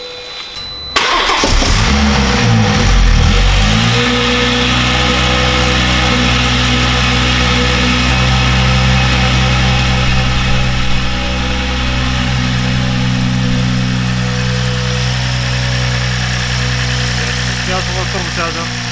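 A BMW B58 engine cranks and catches after its injectors are reconnected, then revs up briefly and settles into a steady, rumbling idle that continues close and loud to the end.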